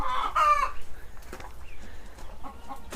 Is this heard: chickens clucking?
yes